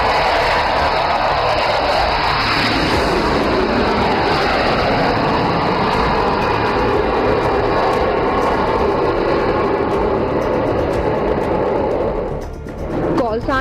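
A Rafale fighter jet roars overhead at an air display at an emergency landing facility in Northeast India, a loud sustained jet rush swelling and sweeping past before fading near the end, with an announcer speaking over it.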